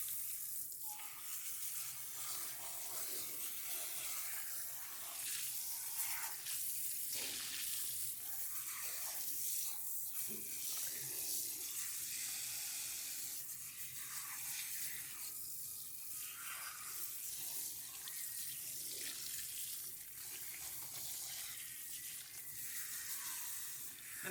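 Tap water runs steadily into a sink while a bleached front lace wig is rinsed, a continuous close splashing hiss lasting throughout with no talking.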